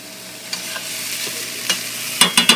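Garlic cooking in olive oil in a pan over lowered heat, a soft steady sizzle punctuated by several sharp utensil clicks and scrapes, louder toward the end; no talking.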